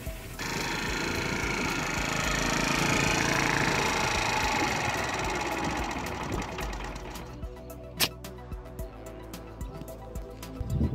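A scooter's small engine runs at a steady buzzing idle for several seconds, then cuts out as the exhaust is blocked, leaving quiet clicks and knocks.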